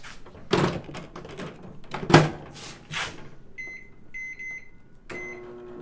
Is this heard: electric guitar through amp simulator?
no